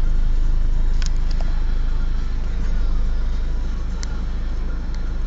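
Learner-driven car pulling away as the clutch is released, a steady low engine drone and cabin rumble holding throughout at close range, with a few faint clicks on top.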